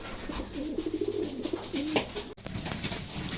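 A racing pigeon coos in low, repeated warbling phrases, up close and fairly clear, at a sprint race loft in San Jose, Nueva Ecija, before a brief bump and a steady background rustle.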